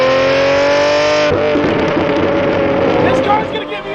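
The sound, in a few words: Lamborghini Murcielago V12 engine revving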